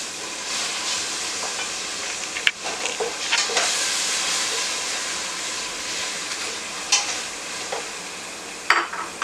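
Leek, ground garlic, ginger and tomato stirred in a hot pot, a loud continuous sizzling hiss with occasional sharp clinks and scrapes of the utensil.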